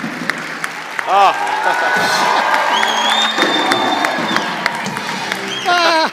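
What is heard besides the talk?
audience applause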